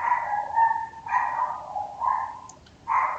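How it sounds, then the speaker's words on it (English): Dogs bark and whine outside, the calls coming as a few drawn-out, yelping bursts at moderate distance with short pauses between them. No one speaks over them. "We got some dogs outside barking."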